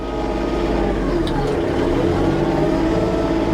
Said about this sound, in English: So now the tractor is idled up with the linked pedal.